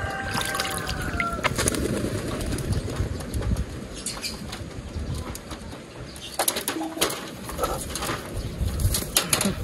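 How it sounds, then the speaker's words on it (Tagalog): Pigeons startled while being doused with very hot tap water, their wings flapping and clattering in bursts over running water, with soft cooing and a faint voice now and then. "Kaya nagugulat yung kalapate."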